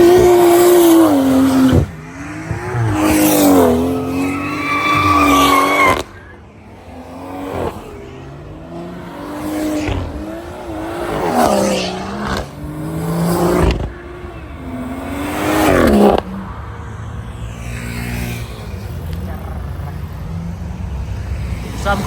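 Cars drive past on a road one after another, engines rising and falling with whooshing swells and pitch shifts, fairly loud and close.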